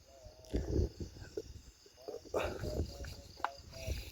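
Crickets chirp at night outdoors in rural Java, with faint thin repeated calls behind intermittent voices and rustling handling noise.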